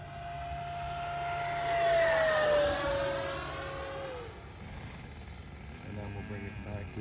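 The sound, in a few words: E-flite Havoc Xe 80mm RC jet flying at power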